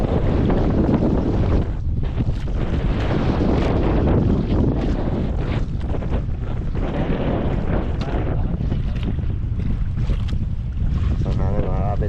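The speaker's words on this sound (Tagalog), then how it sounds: "Malakas tayo hangin mga kapatid." Strong wind buffets the microphone on a fishing boat at sea during net fishing, a loud continuous roar with gusting rumble and water noise throughout, no talk heard.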